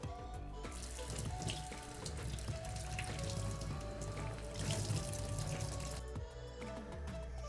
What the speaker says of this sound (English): Before I cut them, I'm going to wash the raisin.